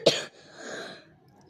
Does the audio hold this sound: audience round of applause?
no